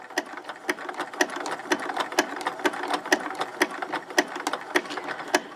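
A sewing machine stitches fusible appliqué with reduced presser-foot pressure, running in a steady, close, mechanical rattle with regular sharp ticks through the stitching and no voices.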